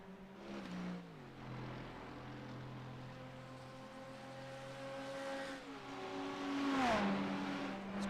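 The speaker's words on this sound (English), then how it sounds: "Great to see these Ferraris though at full chat, isn't it?" Ferrari race cars flat out around Monza: a high, whining engine note holds steady, then drops in pitch through a few gear shifts and climbs again, sounding fairly close and clear with no talk.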